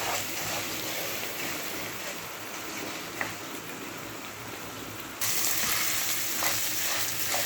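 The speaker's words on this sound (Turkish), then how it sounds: "Arpalar da güzel kızardı ya." Orzo-shaped vermicelli fries in a pan with rice added for a Turkish rice pilaf, producing a steady close hiss and crackle that grows louder partway through, with faint stirring knocks.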